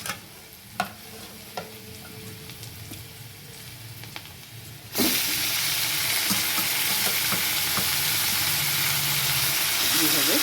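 Marinated chicken meat going into a hot pan with onions in a home kitchen sizzles, quiet at first with a few clinks, then bursting into a loud, continuous frying hiss as the meat hits the oil.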